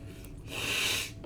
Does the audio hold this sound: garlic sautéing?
no